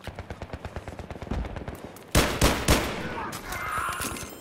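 Battlefield 3 gunfire opens with a rapid, even stream of automatic shots, then a few much louder, sharper reports crack close by before the firing fades into a rumbling tail.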